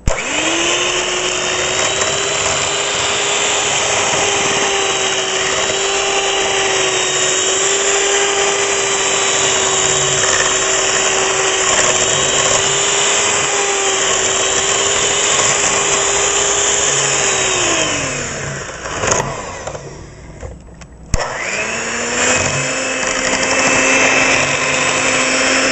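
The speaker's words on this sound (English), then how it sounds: "We're going to blend it a little bit," A kitchen blender whirring through a sesame sauce mixture, a loud steady motor drone held for about eighteen seconds, then winding down, stopping briefly with a clunk and starting up again.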